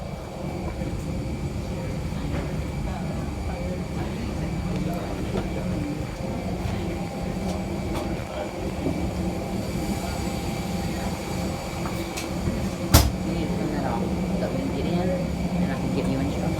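Steady airplane cabin drone in flight: a broad, constant low roar and hiss filling the whole stretch, with one brief sharp click near the end.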